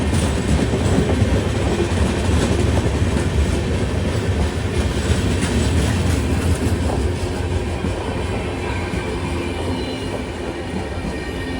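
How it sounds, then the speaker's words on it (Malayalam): Sanghamitra Express pulls out of the station with a loud, close, continuous rumble of wagons, wheels clacking and squealing on the rails, steady throughout and easing slightly toward the end. "സംഘമിത്ര ഇവിടുന്ന് ഇതാ എടുത്തിട്ട് പോവുകയാണ്"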